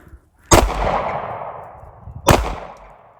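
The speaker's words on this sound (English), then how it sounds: "That was 1 with a full metal jacket and 1 with a hollow point" Two loud, sharp gunshots roughly two seconds apart, one a full metal jacket round and one a hollow point, fired into a regular household wall, each crack followed by a long ringing decay.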